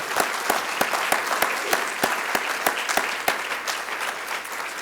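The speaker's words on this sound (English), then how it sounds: "let's give them a round of applause" An audience applauds at a Wounded Warriors event, a moderately loud, even patter of many hands clapping throughout, with no speech over it.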